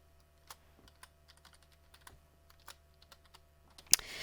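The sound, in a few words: typing a folder name on a computer keyboard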